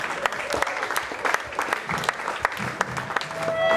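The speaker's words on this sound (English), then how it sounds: "Give him a round of applause." An audience at a live event breaks into lively applause, dense clapping with a few louder individual claps, continuous and fairly close throughout.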